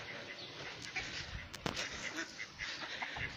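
Muscovy ducks wandering in a farm pasture give a few faint, scattered calls against a low outdoor background, with one brief louder burst partway through.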